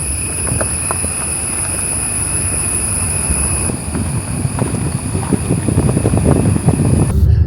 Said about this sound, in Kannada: ಆ ಕಾಡಲ್ಲಿ ಬೆಳಗ್ಗೆ ಹೊತ್ತು ಸೌಂಡ್ ಯಾವ ರೀತಿ ಇರುತ್ತೆ ಅಂತ ನೀವು ಕೇಳಬೇಕಾ?